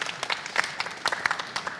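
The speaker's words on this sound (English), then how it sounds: "You can give him a round of applause, make him feel welcome." Audience applause at the Euro Bus Expo innovation challenge welcoming a finalist; a steady patter of many hands clapping fills the short stretch at moderate volume.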